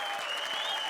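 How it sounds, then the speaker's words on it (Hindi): Studio audience at a Comedy Circus taping breaks into steady, dense applause welcoming a performer to the stage, a continuous wash of clapping with no talk over it. "धमाकेदार तालियों से स्वागत कीजिए हम सब की प्यारी इच्छा"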